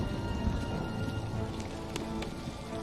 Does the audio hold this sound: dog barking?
no